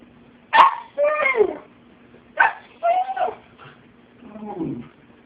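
A husky puppy yips, barks and gives short howling whines at a cat, several separate vocal bursts close up with quiet pauses between them.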